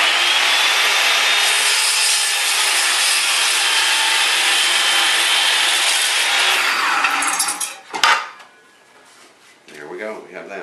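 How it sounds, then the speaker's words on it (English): Power saw cutting wood at a bevel: a loud, steady broadband whine and rasp for about seven seconds, then a sharp drop as the cut finishes and the blade winds down, with faint talk after. "With the saw on a bevel like this, you can even see in the view window just a little bit more."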